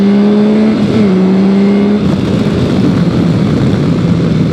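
Yamaha Tracer 9 motorcycle (2021) pulling away, its engine note loud and close with a steady pitched drone that drops as it shifts, then settles into a rushing roar, with no talk.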